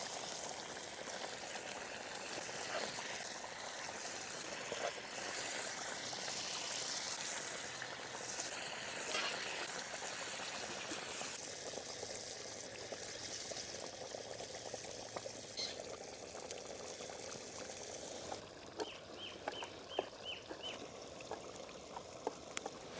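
Village-style fish curry masala bubbles and sizzles steadily in a pan as pieces of fried fish are added, a soft continuous simmer with faint pouring, trickling and occasional small clinks, no voices.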